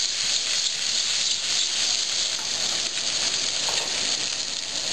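Salmon frying in hot oil in a pan, a steady, dense sizzle and hiss running throughout at close range, with no voices.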